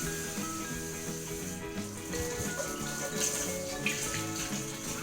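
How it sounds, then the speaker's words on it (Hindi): Running water pours steadily over red amaranth leaves as they are rinsed, with continuous splashing and patter throughout and no talking. "तो देखिए मैं इस तरह से धो रही हूँ कि सिर्फ पत्तों पे ही पानी गिर रहा है, मिट्टी में नहीं।"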